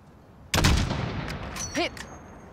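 A single loud sniper rifle shot in Call of Duty Modern Warfare, a sharp crack followed by a rolling echoing boom, then brief voice-like tonal sounds as the report fades.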